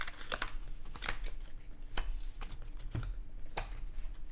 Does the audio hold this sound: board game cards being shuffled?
yes